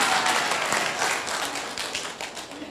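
An audience at a Buddhist monk's sermon claps in a steady, moderately loud round of applause that slowly fades, with no talking.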